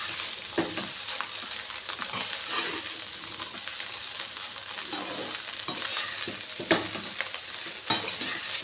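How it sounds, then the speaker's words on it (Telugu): Chicken fried rice with chicken masala is stirred in a hot pan, with a steady sizzle under repeated scraping and tapping of the spoon against the pan, a few sharper clinks standing out, and no talking. "ఇదంతా రైస్ పట్టేలాగా బాగా కలుపుకుందాం."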